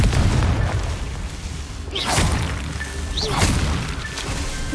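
A fiery Confringo explosion spell in the Hogwarts Legacy video game bursts with booming, crashing impacts, two bright blasts about a second and a half apart over a low rumbling game soundscape.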